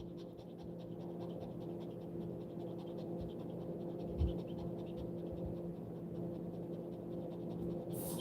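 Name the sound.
dog panting heavily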